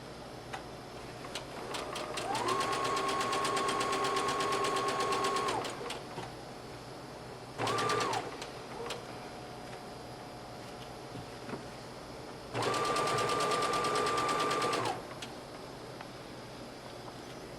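A sewing machine stitches a dress side seam with a 5/8 inch straight stitch, in three bursts of steady, fast whirring: a long run, a brief one, then another long run, separated by quiet pauses.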